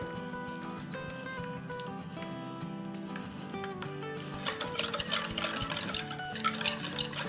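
A spoon stirs mayonnaise into a channa fruit chaat, giving soft scraping and clicking against the bowl that grows busier toward the end, with faint background music underneath.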